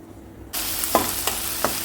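Onion with a little coriander hits hot oil in a kadai, the sizzle starting suddenly and holding steady, with a few brief stirring scrapes on top, close and moderately loud.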